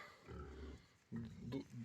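Low, throaty grunts from a Hungarian Mangalica pig on a farm come in two bursts, fairly close and loud, with a brief quiet gap between them.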